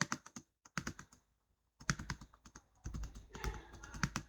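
Bursts of fast typing on a computer keyboard, heard as sharp close clicks in quick runs broken by short pauses.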